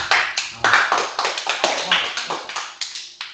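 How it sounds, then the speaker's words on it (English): A group of people claps in a quick, uneven rhythm, a dozen or more sharp bursts close by in a room, with a brief voice in between. "Clap again, man."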